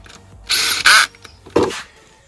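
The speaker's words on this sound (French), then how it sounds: "Une petite visseuse avec une clé à douille." A small cordless screwdriver fitted with a socket drives bolts on an above-ground pool frame in two short whirring bursts with a brief pause between, close by, no speech.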